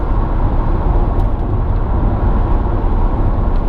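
A Mercedes-Benz SLK230 Kompressor cruises at 70 mph and 2,500 rpm, filling the cabin with a constant, loud low rumble of engine and road noise with no voices.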